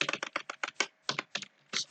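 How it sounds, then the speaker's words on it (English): Quick bursts of keystrokes clatter on a computer keyboard, close and fairly quiet, in uneven clusters with short pauses between them. "I'm going to just type them out so that you can just see how it works"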